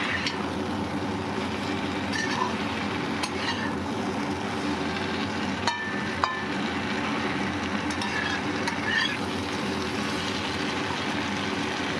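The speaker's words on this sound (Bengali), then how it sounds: "এখন এই সবজির সঙ্গে ভালোভাবে মিশিয়ে নিচ্ছি" Shrimp and mixed vegetables being stirred and fried in a pan, giving a steady, close sizzle with scraping and clinks from the utensil throughout, and no talk.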